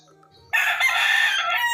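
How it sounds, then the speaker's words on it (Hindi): A rooster crows loudly and close by in one long drawn-out call that starts abruptly after a short quiet moment. "ये है मुर्गा। मुर्गा को इंग्लिश में बोलते हैं कॉक।"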